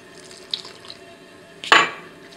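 Water splashes briefly into a bowl of vegan carob tart dough, with one short liquid pour rising out of quiet kitchen room tone and fading quickly.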